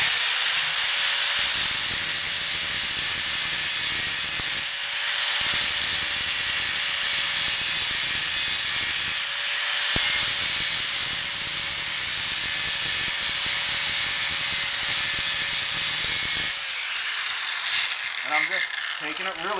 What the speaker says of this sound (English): So let's get some grinding going.